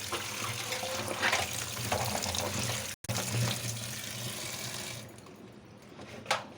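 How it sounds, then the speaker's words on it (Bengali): Chopped flat beans are rinsed in water in a sink, with running and sloshing water close by, a brief cut midway, and the flow quietening toward the end. "ভালো করে ধুয়ে নিচ্ছি আমি"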